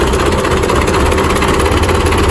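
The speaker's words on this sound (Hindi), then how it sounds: "गर्मी है तो ये अभी ट्रैक्टर ले जा रहे हैं" A tractor engine runs steadily nearby in a village as the tractor is driven away, a constant close, loud diesel rumble with no break and no talk.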